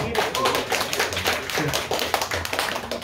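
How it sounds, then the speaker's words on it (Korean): Applause for the three judges at a Korean PYC 1 vs 1 round-of-16 competition, a dense burst of hand clapping from a nearby crowd lasting a few seconds. "박수 부탁드립니다"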